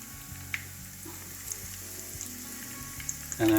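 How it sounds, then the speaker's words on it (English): Oil sizzles steadily in a pan as mashed potato rolls shallow-fry, with a soft, constant crackle, joined by a few small clicks and a brief clatter at the end. "I'm just shallow frying it."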